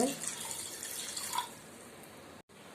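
Running water splashes and trickles steadily close by as it is poured to wash mutton, then briefly cuts off near the end.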